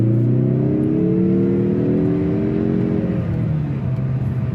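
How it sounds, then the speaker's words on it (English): A 2024 Mazda 3 2.5 Turbo hatchback with all-wheel drive pulls hard at full throttle on back roads, its engine note rising steadily from inside the cabin, loud and continuous before easing off near the end. "Like right now, I'm just kind of cruising around these back roads, foot to the floor."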